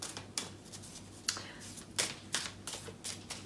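Tarot cards are shuffled and pulled by hand, with a series of quiet, crisp riffles and snaps spaced irregularly, close and soft with no talking.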